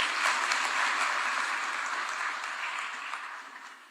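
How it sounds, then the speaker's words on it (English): Applause from a conference audience at an international nuclear energy event in Nairobi, dense and continuous clapping that fills the room and slowly tapers off. "Let us give another round of applause to Honorable James Orengo"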